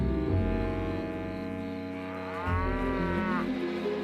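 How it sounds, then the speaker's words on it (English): A cartoon cow moos in a long, low bellow, followed by a second rising, wavering moo, heard fairly clearly over a quiet background. "this cow isn't very helpful"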